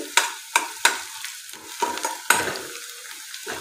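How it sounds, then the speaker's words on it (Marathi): Chopped onion sautéing in a pan for manchow soup, stirred with a spatula in several sharp scraping strokes over a light sizzle, close and clear with no talking. "कांदा आपल्याला थोडासा लालसर रंग येईपर्यंत परतून घ्यायचा आहे"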